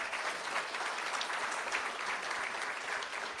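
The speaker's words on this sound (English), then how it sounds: "Now let's give her a huge round of applause." Sustained applause from an audience at a school board meeting honoring a student, dense steady clapping filling the room throughout with no break.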